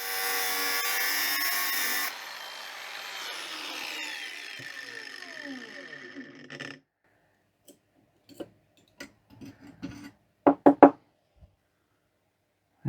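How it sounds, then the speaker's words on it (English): A power tool whines loudly for a couple of seconds, then grinds and winds down while cutting a bracket off a vintage pedal car, followed by scattered metallic taps and clinks. "let's cut the bracket off."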